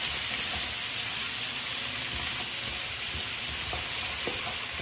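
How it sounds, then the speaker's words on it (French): Vegetables cook lightly in a pan, making a dense, continuous hissing sizzle close by, with occasional faint stirring knocks and no voices. "Juste faire cuire légèrement nos légumes."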